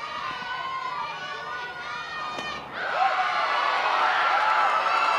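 A softball crowd at the ballpark cheering and shouting through a steady wash of noise that swells louder partway through, with voices mixed throughout.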